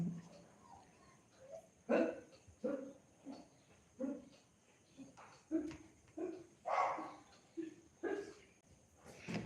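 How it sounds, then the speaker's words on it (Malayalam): A dog barks repeatedly in short, sharp bursts, about one every second, fairly close and otherwise quiet between barks. "പട്ടിയുടെ ഭയങ്കര ശല്യം"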